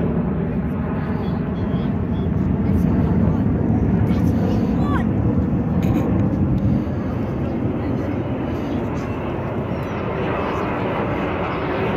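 F-35 fighter jets fly over a city, a broad, loud, sustained roar that holds steady for the whole span and sounds fairly close, with talk faintly present under the engine noise.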